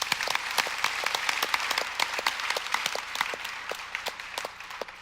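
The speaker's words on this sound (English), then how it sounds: "Let's give our Board of Education another round of applause." Steady applause from an audience at a school community gathering, many hands clapping together for several seconds, fairly close and even in loudness.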